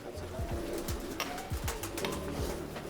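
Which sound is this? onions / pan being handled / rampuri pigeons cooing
rampuri pigeons cooing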